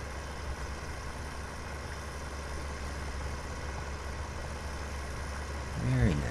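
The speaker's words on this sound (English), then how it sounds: "quite an outstanding little tractor" Tractor engine in Farming Simulator 17 running steadily at a low, even drone while plowing a field, with a brief rise near the end.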